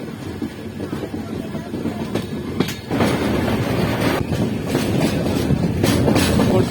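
A Pooja SF Express train rolling along the rails at dusk as it approaches a station, a loud, continuous rumble with rhythmic clickety-clack from the wheels passing close by, and no talking.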